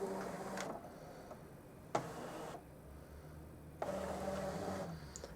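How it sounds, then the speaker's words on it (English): A Brother ScanNCut cutting machine takes in its cutting mat with soft mechanical whirring, broken by a few sharp clicks and ticks, quiet and close, with no talking. "I'm just going to load the mat into the machine"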